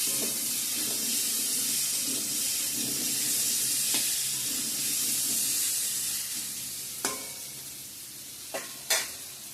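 Pumpkin slices sizzle steadily in a hot pan, a constant frying hiss, with a few sharp clinks of a utensil near the end.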